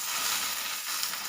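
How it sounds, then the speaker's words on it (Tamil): Okra sizzles and hisses steadily in a hot pan while being sautéed, a dense, even crackle with no voices. "வெண்டைக்காய் நல்லா வதக்கிக்கணும்."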